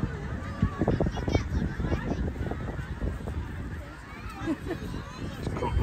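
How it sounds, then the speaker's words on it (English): A flock of geese honks and squawks close by in a noisy jumble, with a person talking over the calls outdoors. "Like a plague of geese, isn't it?"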